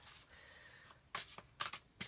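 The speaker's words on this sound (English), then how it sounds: "I'm going to shuffle again for the Divine Feminine" Tarot cards being shuffled for a love reading: a soft riffle followed by three sharp, close bursts of cards snapping together, with no voice over them.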